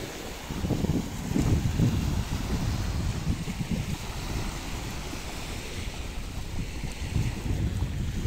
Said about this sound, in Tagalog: malakas yung alon dito, no?